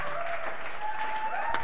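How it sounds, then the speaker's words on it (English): An audience at a comedy podcast taping claps in a short steady burst, the applause dense and even from start to finish. "Alright, stop clapping."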